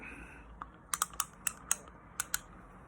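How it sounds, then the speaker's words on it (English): Old schoolboy fishing reel ticking with a light ratchet, giving a quick series of about eight sharp, bright clicks, close and quiet, with no talking over them. "there's my old reel, which I've been using. Nice old click to it"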